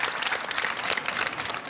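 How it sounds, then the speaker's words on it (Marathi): A studio audience claps steadily at a Marathi TV show, a dense, even wash of many hands without pause through the whole short stretch. "टाळ्या वाजवा एकदा या वाक्यासाठी."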